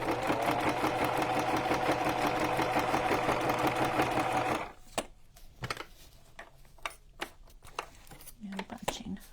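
A sewing machine runs steadily, stitching through a junk journal cover for several seconds, then stops abruptly, leaving a few scattered clicks and small handling taps.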